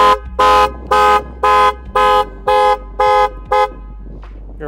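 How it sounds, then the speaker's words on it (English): A Jeep Wrangler car alarm, set off by opening the hood, sounds eight loud, evenly spaced electronic honks close by, then stops. "Your alarm goes off, a light show goes off."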